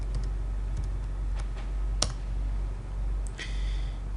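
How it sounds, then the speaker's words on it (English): Password being typed on a computer keyboard during an operating system setup in a virtual machine, a few scattered key clicks and presses over a steady low hum, fairly close and moderate in level. "So just type in the password you've assigned it to it before"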